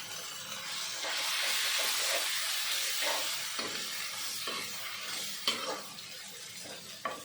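Fish oil chorchori with ginger, potato and eggplant sizzles in a pan while being stirred, a steady hiss broken by intermittent scrapes and knocks of the spoon against the pan.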